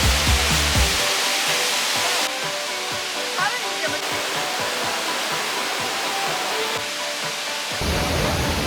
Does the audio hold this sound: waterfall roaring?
yes